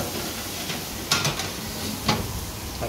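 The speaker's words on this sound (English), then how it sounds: "then I stir fry, just make a bit quicker" Food stir-fries in a hot pan with a steady hissing sizzle, broken by a few louder scrapes and clatters as it is stirred, close and continuous with no talking.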